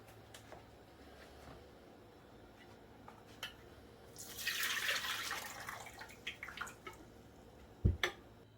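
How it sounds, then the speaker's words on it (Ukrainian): Water is poured off from glass jars of cucumbers being canned, a soft trickle that swells into a splashing gush midway, then thins to drips and a few clinks, quiet and close. "ми зливаємо водичку з наших баночок"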